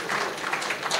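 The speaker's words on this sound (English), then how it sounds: "A very big round of applause to all of us." Applause from colleagues at a meeting, a brief dense patter of many hands clapping, steady and moderately loud.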